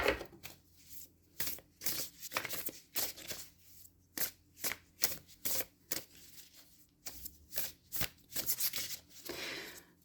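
Tarot cards being shuffled by hand, a close series of quick papery riffling bursts repeating in an uneven rhythm, with no talking.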